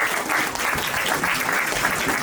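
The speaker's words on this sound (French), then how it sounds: "Je vous demande d'applaudir Denis" Audience at a town-hall volunteers' evening in Melun applauds the host, dense steady clapping filling the room at even loudness from start to finish.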